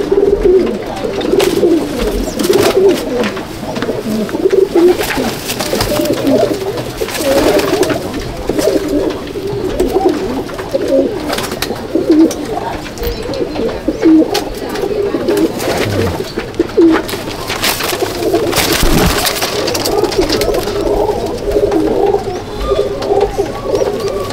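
Madras pigeons in a loft coo loudly and continuously at close range, several birds overlapping in a dense, throaty chorus with occasional flutters and knocks.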